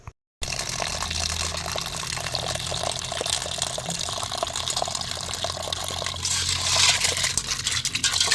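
Meat is washed under running water in a continuous close splashing and pouring rush that grows slightly louder near the end. There is a brief silence at the start.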